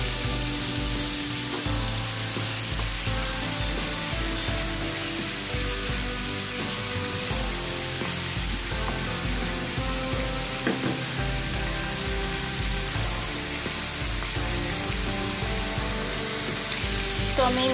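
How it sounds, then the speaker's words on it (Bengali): Fish fat frying in oil in a pan for a Bengali fig (dumur) teljhal, a steady dense sizzle that stays loud and continuous throughout, with faint stirring sounds and no talk. "মাছের তেলটা আমি প্রথমে ভেজে নেব তেলের সঙ্গে।"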